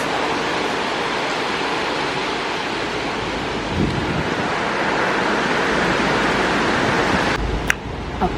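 Hurricane Melissa's wind and surf roar outside a yard in Jamaica, a steady broadband rush with gusty swells throughout, ending in a brief sharp knock.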